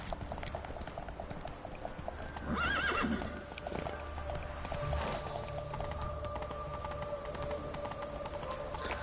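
Roach, the horse in the video game Witcher 3, gallops with a steady patter of hooves and gives one loud, rising whinny early on, over a constant background game ambience.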